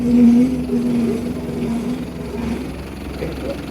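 The engine of a 1953 Lyman Islander boat idles on a steady low drone, running at moderate volume for a few seconds alone.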